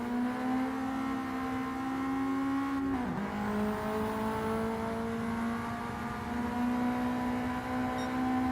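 Race car engine at Brands Hatch in a sim racing game, holding a steady high-revving drone with a quick dip and recovery partway through, like a gear change, loud and continuous with no talking.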